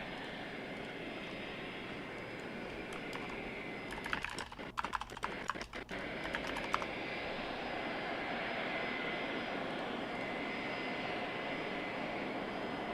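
A Polish airplane arriving at a NATO summit produces a steady, broad jet-engine roar that persists throughout, with a burst of rapid clicking, like camera shutters, partway through.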